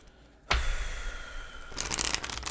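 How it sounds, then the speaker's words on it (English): A deck of tarot cards being shuffled: a sharp snap, then a steady papery riffle that grows busier toward the end, close up with no talking. "I'm actually going to put this back and we're going to just shuffle again"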